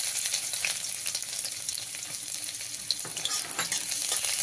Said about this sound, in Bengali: রসুনটাকে এবার একটু লাল লাল করে ভেজে নেবো